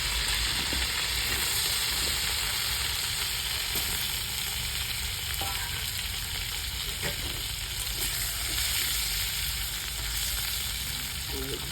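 Potato and papaya pieces fry together in hot oil with a steady, dense sizzle throughout, broken by a few faint stirring knocks and scrapes.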